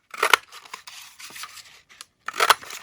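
Scissors snip through small paper scraps in short crisp bursts, a quick double cut at the start and another near the end, with softer rustling handling between them, close and fairly quiet.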